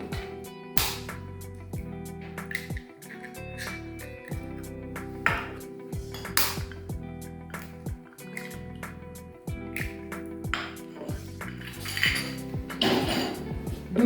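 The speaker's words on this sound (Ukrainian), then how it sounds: "Приготуємо омлетну масу. Для цього розіб'ємо два яйця." Two eggs are cracked for an omelette, with close clinks and taps against a dish, light utensil clatter and faint liquid sounds in a quiet kitchen.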